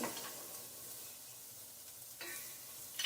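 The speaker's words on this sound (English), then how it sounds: "You're just going to stir this around and let it roast up." Spices such as cinnamon, turmeric, coriander and cumin roasting with salt in a pan, a faint hissing sizzle with a couple of soft stirring scrapes.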